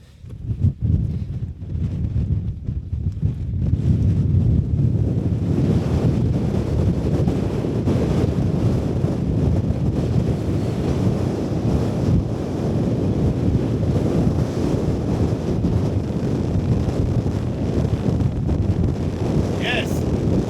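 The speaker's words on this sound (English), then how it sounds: "It's very windy." Strong, steady wind roars across a mountain summit at Sheffield Pike, buffeting the microphone continuously for the whole stretch.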